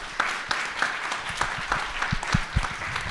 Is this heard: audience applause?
yes